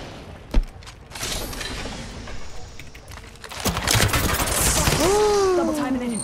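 Apex Legends gunfire: a sharp nearby shot, then a quieter pause, then heavier volleys of shooting with rising in-game effects and a sweeping tonal whine near the end.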